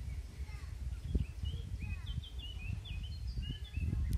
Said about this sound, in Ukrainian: Тільки співають пташки